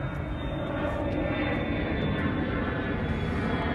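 Fixed-wing airplane passing overhead, a steady broadband engine roar that holds loud and continuous throughout, heard alone during an outdoor vehicle inspection.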